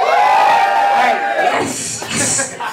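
A crowd at a live show cheers and shouts together, with loud voices rising and falling in a burst of noise that tapers off.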